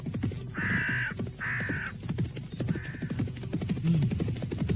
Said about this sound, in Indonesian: Burung-burung elang yang bersarang di puncak-puncak tebing berterbangan dengan suara-suara yang menyeramkan.